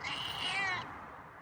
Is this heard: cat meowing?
yes